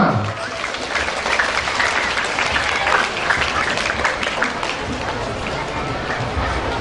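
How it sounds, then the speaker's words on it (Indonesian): Audience applause fills a school education and culture festival event in Palembang, a dense, steady wash of clapping from a large crowd throughout, loud and continuous with a murmur of voices underneath. "Tepuk tangan."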